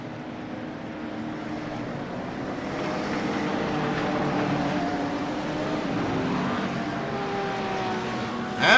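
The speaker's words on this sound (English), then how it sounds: "The pace car begins to roll." GT3 race cars in a racing video game at Zandvoort roll together behind the pace car, a steady layered engine drone at moderate level with some commentary-like tone underneath, swelling slightly midway and ending with a brief louder burst.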